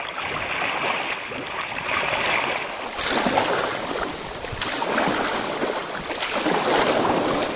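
Steady rushing water with splashing strokes from paddles of a crew paddling a boat forward, continuous and fairly loud, with no voices.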